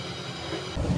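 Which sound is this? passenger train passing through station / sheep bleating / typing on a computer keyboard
passenger train passing through station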